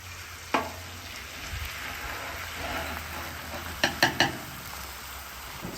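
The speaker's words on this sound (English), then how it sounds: "I always cook eggs with butter. Today's no different. I got 3 eggs scrambled." Scrambled eggs, three of them, frying in butter on a new Weber griddle: a steady low sizzle throughout, broken by a few sharp scraping or tapping clicks near the end.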